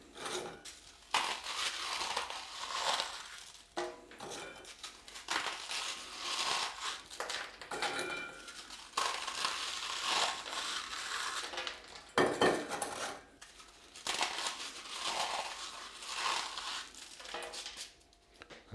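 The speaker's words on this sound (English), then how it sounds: "I just crush into it." Rusk (zwieback) crushed by hand into a pork and apple sausage mixture in a bowl: repeated crumbly crunching and scraping in uneven bursts, close and moderately loud, with occasional clinks against the bowl and no talking.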